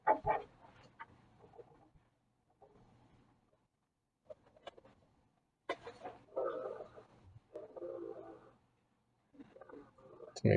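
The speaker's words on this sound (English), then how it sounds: "Somebody's dog getting mad." A dog growls and grumbles over a phone line during a township supervisors' meeting, coming in short bursts between pauses and sounding thin and somewhat distant, with faint voices now and then.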